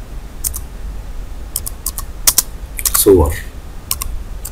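An album name is typed on a computer keyboard, giving a scattered run of sharp, close key clicks with a brief bit of speech partway through.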